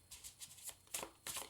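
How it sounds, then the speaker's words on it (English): A deck of slippery gold-foil Rider-Waite tarot cards is shuffled on a table in close, quiet bursts of riffling and slapping, about five separate flutters with short gaps between them. "the cards are so slippery that they just like vomit all over the table anytime I try and shuffle them"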